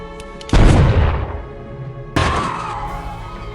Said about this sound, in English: They exchange gunfire in the parking lot, but when Gordon gets the upper hand